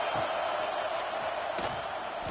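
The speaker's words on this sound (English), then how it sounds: "Listen to this crowd just shaking the girders of this place, trying to help their defense." A college football stadium crowd roars as one, a dense, loud, sustained wash of cheering with a few sharp bursts and thumps, steady throughout.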